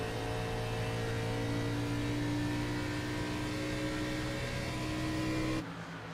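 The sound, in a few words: race car engine revving on throttle at Pocono, racing video game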